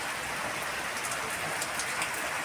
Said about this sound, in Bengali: এই যে দেখো বৃষ্টি নেমেছে